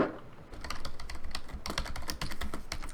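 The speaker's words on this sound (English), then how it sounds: "Typing, I am furiously typing" Rapid typing on a computer keyboard, a dense, close flurry of sharp key clicks that continues almost without pause and is heard alone, with no voices.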